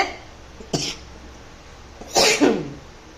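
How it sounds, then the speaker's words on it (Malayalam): Someone cooking a mango curry with coconut milk coughs twice from the curry's smell: one short cough, then after a pause a louder, longer double cough, both close over quiet background. "ഇനി നമുക്ക് കറിയുടെ മണം കേട്ടിട്ട് ചുമ വരുവാണ്"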